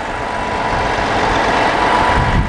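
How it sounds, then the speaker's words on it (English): A Cummins ISX 12, an 11.9-liter diesel engine in a 2013 MCI J4500 coach, idles at the open rear engine door with a steady, loud, low rumble and no voices. "Cummins ISX"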